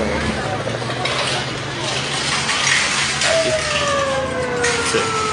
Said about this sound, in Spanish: Aquí observamos el retiro de la ambulancia.